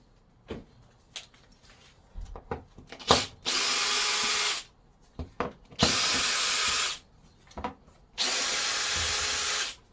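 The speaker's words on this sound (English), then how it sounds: "I'll just unscrew there" A power drill unscrews a screw from plywood in three sustained bursts of whirring, each lasting about a second, separated by knocks and handling clatter, close and fairly loud.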